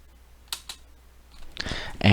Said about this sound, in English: but I'm typing more stuff.